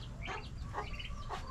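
Chickens and chicks on a small farm cluck and peep softly in a continuous, faint, distant chatter of overlapping calls.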